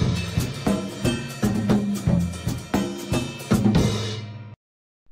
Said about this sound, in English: On this next tune, I'll be playing the drum set